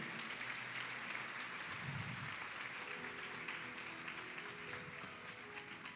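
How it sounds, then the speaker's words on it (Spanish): Applause from a church congregation during a Sunday service, with steady, fairly soft clapping from the crowd throughout and faint voices mixed into the noise. "Dale un aplauso al Señor."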